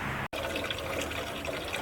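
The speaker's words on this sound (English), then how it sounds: "while the water's coming out, I'll start taking the intake off." Water pours and splashes steadily out of a Mopar 400 engine block during teardown, a close, continuous trickling gush broken once by a brief cut near the start.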